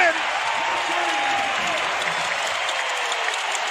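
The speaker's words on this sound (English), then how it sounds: "You could hear the crowd ooh and ah." Crowd noise fills a basketball arena at an Oklahoma City Thunder game, a loud continuous roar of applause and cheering with a commentator talking over it.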